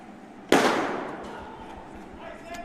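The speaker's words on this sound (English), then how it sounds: "And the gun has been fired." A starter pistol fires a single sharp crack to start a boys' 1500 m track race, the report ringing out loud with a fading echo over open-air background noise.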